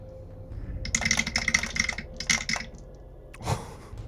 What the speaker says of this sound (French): Je vais donc te lancer les 8 dés de dégâts que tu fais